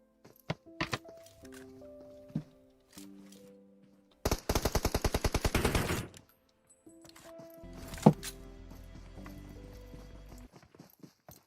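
Video game battle royale scrim gunfire: a long rapid burst of automatic shots in the middle, with scattered single shots, footsteps and game sound effects around it, no voices.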